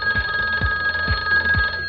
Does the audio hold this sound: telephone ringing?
yes